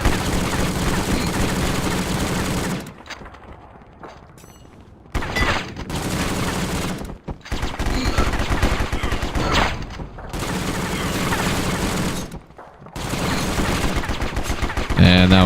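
Rapid bursts of shotgun and gunfire in the War Brokers shooter game, loud and dense, broken by a few short quiet gaps, with a voice occasionally underneath.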